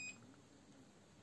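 A fire alarm panel (Apollo XP95/Discovery addressable system) gives a brief, faint high electronic pre-alarm beep at the very start, then only quiet background hum remains.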